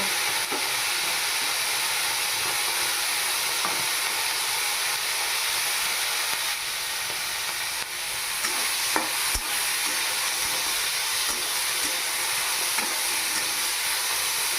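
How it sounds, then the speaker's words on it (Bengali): Marinated shrimp fry in hot mustard oil in a pan, giving a loud, continuous sizzling hiss with a few faint clicks and pops and no talking. "তেল গরম হয়ে গেছে এবারে মেখে রাখা চিংড়ি মাছ ভেজে নেব"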